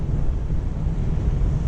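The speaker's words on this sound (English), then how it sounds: "The gust or the funnel through Lukksundet and the prevailing winds in this area" Strong wind roars steadily across a microphone while a Bavaria 41 sailboat makes its way through the narrow Lukksundet strait in a gust, with a dense low rumble that stays loud and unbroken throughout, and no voices.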